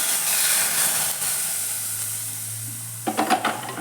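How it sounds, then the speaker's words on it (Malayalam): Loud hissing sizzle from hot mustard-seed tempering poured into a dried fish curry, fading gradually, followed by a few clinks and stirring sounds. "ഇനി വറവ് കറിയിലോട്ട് ഒന്ന് ഒഴിച്ചു കൊടുക്കാം"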